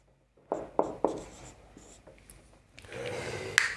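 Handwriting on paper during a maths class on percentage questions: a few distinct scratchy pen strokes close by, then a longer, steadier scribble with a sharp tap near the end.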